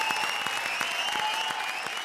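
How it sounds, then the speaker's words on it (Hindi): A studio audience at a comedy show applauds to welcome a guest. The clapping is steady and dense but fairly quiet, with sustained music tones running over it throughout. "जोरदार तालियों से स्वागत कीजिए"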